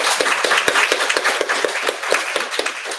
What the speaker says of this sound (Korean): 축복의 박수 한번 하세요